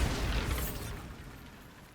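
A Bombarda blasting spell explodes in Hogwarts Legacy: one loud, close boom that decays into a rumbling tail over two seconds.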